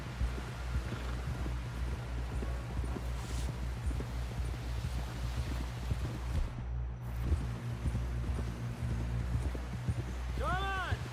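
Horse hooves clip-clop at an even walking pace in Red Dead Redemption 2, a continuous rhythmic clatter under a low engine-like drone, with a few brief tonal swoops near the end.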